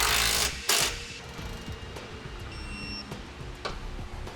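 Socket wrench torquing bolts while fitting a CURT Class 2 trailer hitch receiver to a 2018 Mitsubishi Outlander Sport, brief clicking ratchet bursts and metallic clunks close up, short and irregular, with no talking.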